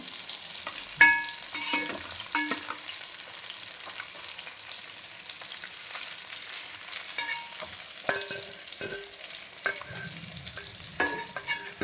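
Fish pieces frying in hot oil give a steady hissing sizzle, broken by occasional clinks and scrapes of a utensil in the pan, with no talking.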